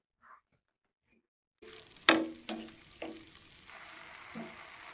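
A drumstick leaf stir-fry, murungai keerai poriyal, is stirred in a pan, giving a few distinct scraping stirs over a soft, steady sizzle after a brief quiet start.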